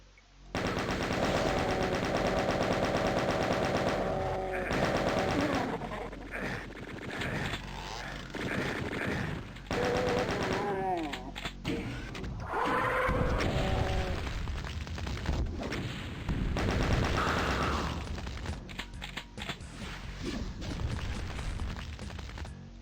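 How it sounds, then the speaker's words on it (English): Rapid chaingun bursts from Doom 2 play as long rattling runs of shots, loud and close, broken by short pauses, with game music and monster noises mixed underneath. "Oh, a chain gun."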